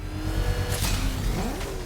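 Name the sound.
car engine revving in Batman Arkham video game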